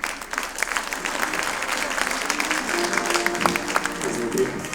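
Audience applause at a celebratory concert for a regional folk arts center's anniversary, a dense, steady wash of clapping from a full hall lasting throughout, with brief tonal notes poking through near the end.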